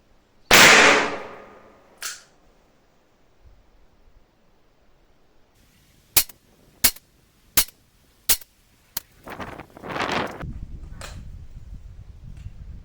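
Taurus 627 Tracker .357 Magnum revolver with a 6-inch barrel fires a string of sharp, evenly spaced shots at an indoor range, five or six cracks about a second apart after an earlier loud blast, with light rustling between.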